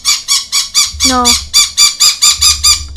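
A pet bird squawks loudly and close over and over in a steady, rapid series of harsh calls, while a person briefly speaks once in the middle.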